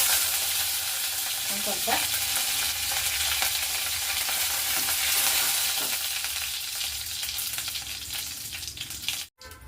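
Half a spoon each of mustard seeds and cumin crackle and sizzle in heated oil, a dense, continuous frying hiss with occasional pops. A brief spoken word cuts in partway through.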